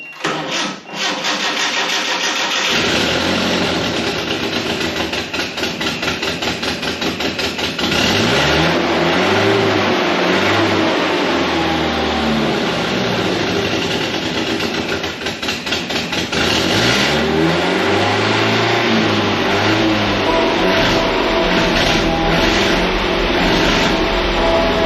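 A 1985 Nissan 720 4x4 truck engine cranks, catches and runs roughly, with repeated loud revs swelling and falling over a steady idle, close and continuous with no talk.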